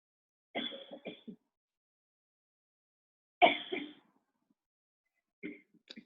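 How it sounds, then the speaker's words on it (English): Three separate bursts of coughing in a classroom, short hacking clusters spaced apart by silence, fairly close and clear with no talk between them. "Who's coughing?"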